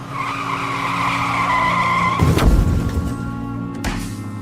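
A car skids with a sustained tire squeal, then crashes into something in a loud burst of impact noise, with a second smaller crunch just after, all in a dramatic sound effect with no talking.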